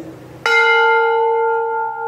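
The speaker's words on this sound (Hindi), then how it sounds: "51 किलो सवा 51 किलो की वड्डी घंटी" A large 51-kilogram temple bell at a Shani temple in Taraori is struck once, ringing loud and close with a rich, sustained metallic tone that hums on steadily after a quiet lead-in.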